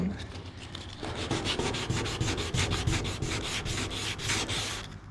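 Hand sanding of gummy old single-stage paint off a VW Super Beetle body part makes a loud, rhythmic rasping scrub, with quick back-and-forth strokes repeating steadily and close up.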